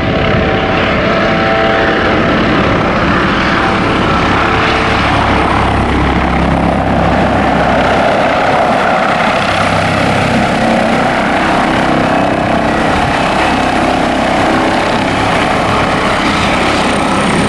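An Airbus attack helicopter flying in a demonstration gives off a loud, continuous rotor and engine roar that stays dense and steady throughout, with no voices.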